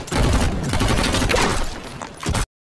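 A film gunfight between criminals and police: rapid bursts of gunfire and volleys crackle almost continuously, loud and close, then cut off abruptly.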